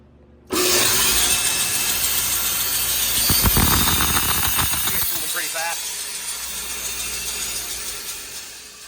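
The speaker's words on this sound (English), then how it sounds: "So first I'm gonna run it with the clutch engaged, which engages the high side." A Delta bandsaw runs with its clutch engaged on the high-speed side, the blade zinging: an abrupt start into a loud, steady mechanical whir with rattling and ratcheting clatter midway, gradually easing off, with a voice speaking over it.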